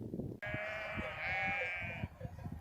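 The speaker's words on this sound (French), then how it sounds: "Je suis à nouveau bloqué par les moutons" Sheep on a mountain trail in the Alps give one long, loud, wavering bleat close by, with faint bell-like clinks and rustling around it.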